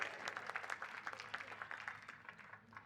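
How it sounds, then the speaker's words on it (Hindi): Crowd clapping at a BJP political gathering in Udaipur, a steady burst of many hands applauding at a distance, fading slightly toward the end, with no talk over it. "एक बार जोरदार तालियां बजाकर इन दोनों मेहमानों का स्वागत करें"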